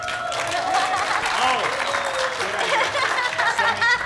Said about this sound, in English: So you got to all wave and clap